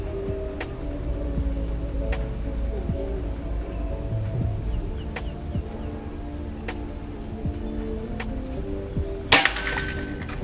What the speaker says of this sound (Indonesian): Tembakan terakhir pakai VS Dome.